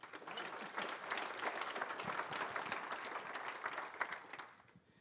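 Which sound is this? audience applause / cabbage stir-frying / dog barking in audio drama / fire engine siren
audience applause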